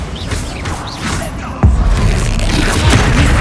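A Bombarda explosion spell goes off in Hogwarts Legacy, a loud, sudden boom midway that sits over ongoing game ambience and effects, followed by a sustained rumbling tail.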